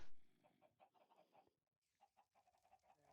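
Chickens in the video game Minecraft cluck in a few short, quiet bursts, separated by a brief pause, with no talking over them.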